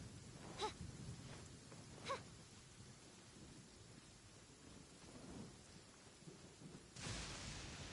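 Thunder and rain in the video game Genshin Impact: steady rainfall with a low rumble, a couple of faint cracks early on and a louder rolling surge near the end.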